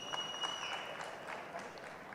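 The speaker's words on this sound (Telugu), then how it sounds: "so big round of applause for Chandy" Audience applause for actress Chandini Chowdary at the Gaami pre-release event, a dense, steady wash of clapping from a crowd with a faint tonal ring from the hall's sound system running through it.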